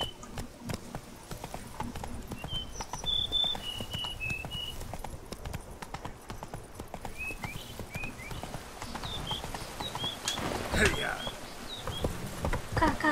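Horse hooves clip-clop at a steady trot in The Witcher 3, a rhythmic gait under ambient game sounds and bird chirps, with a person talking over it.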